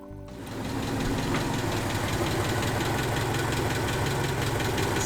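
A Ford Anglia engine, lowered and fitted with a new radiator and fan, runs steadily for several seconds, rising in at the start into a loud, even mechanical drone with a slight knocking rattle and no talk.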